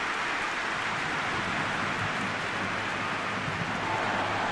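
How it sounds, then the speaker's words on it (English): Rain falls steadily in the football video game eFootball PES 20, an even broadband hiss that stays constant throughout with a faint low rumble beneath and no talk. "Rain starting to fall here."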